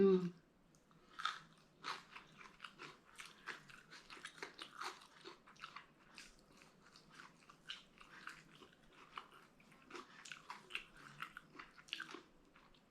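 Someone eating spicy green papaya salad up close, with crisp crunching and chewing bites in an irregular rhythm against a quiet background.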